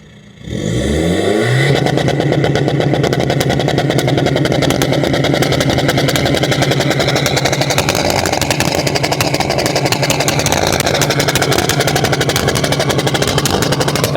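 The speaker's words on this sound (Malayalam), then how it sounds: "അപ്പോൾ ഇതാണ് നമ്മുടെ വണ്ടിയുടെ എക്സോസ് നോട്ട്" Tuned diesel Maruti Vitara Brezza starting up, then holding a loud, steady, rough exhaust drone close to the microphone for the whole stretch, with a dense rattling texture; no distinct pops or bangs stand out.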